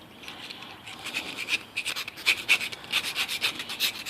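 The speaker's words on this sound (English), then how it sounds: "you can use the round filing for the inside, like this. Do both the sides." Round file rasping the inside of a plastic LG kitchen stove knob, a quick series of short scraping strokes that grow louder and more rhythmic, close and alone.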